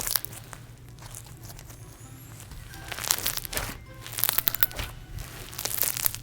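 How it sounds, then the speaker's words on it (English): Close, wet crunching and crackling as a gritty, heavily glittered slime is pressed and squished, growing busier and louder toward the end. "And it's crunchy because it has so much glitter in it."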